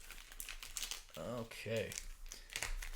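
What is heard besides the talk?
shuffling Magic: The Gathering booster packs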